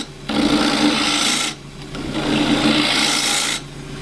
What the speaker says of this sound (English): So this is the 3/8 spindle gouge.